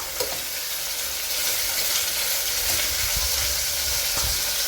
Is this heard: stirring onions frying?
yes